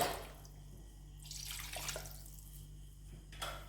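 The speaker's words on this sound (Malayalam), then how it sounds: "മിക്സി കഴുകി വെള്ളം ഒഴിച്ചു കൊടുക്കുക." Rinse water from a mixer jar is poured into a pot of chicken curry, heard as quiet splashing bursts with short pauses and faint drips between them.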